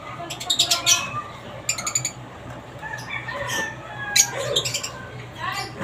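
Green opaline parrots, pale faded birds, squawk and chirp in a small fly cage, with bursts of sharp calls close by over steady background noise.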